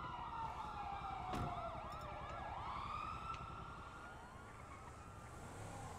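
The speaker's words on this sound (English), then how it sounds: "Wait, listen to the sirens." Police sirens in the video game GTA V, several wailing and yelping siren tones overlapping at a distance over a low rumbling background, with no talk.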